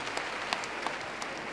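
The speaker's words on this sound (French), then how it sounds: "applaudissements pour toutes ces belles femmes-là" An audience at the Bonjour 2013 event applauds for the women, a brief, steady burst of dense clapping from a crowd that stays even throughout.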